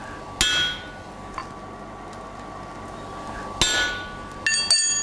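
A blacksmith's hammer strikes a hot steel tie bar set on a center punch, giving a few sharp, ringing metallic blows spaced apart, then a quick cluster of hits at the end, close and clear with no talk.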